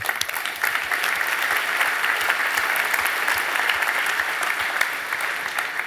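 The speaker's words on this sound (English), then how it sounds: "Big round of applause for them." A large conference audience at a DockerCon keynote breaks into dense, sustained applause for Weave, Cluster HQ, Glider Labs and Mesosphere, many hands clapping steadily and loudly from start to finish, with no voices above it.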